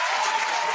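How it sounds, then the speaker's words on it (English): Brief burst of steady, dense applause from a crowd during a mixshow, a short wash of clapping with no talk. "round of applause for Fight the Power."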